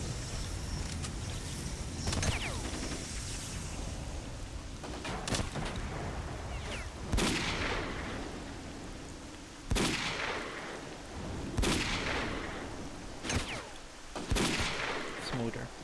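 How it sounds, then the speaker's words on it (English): Sniper rifle shots crack out one at a time at regular intervals in S.T.A.L.K.E.R.: Clear Sky, loud and sharp over constant dense game background noise. "this time around let's use the sniper."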